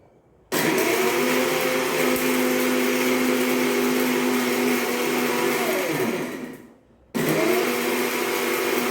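A kitchen mixer grinder whirs loudly up close as it grinds spices for sambar, running steadily for about six seconds, winding down, then starting again after a brief pause.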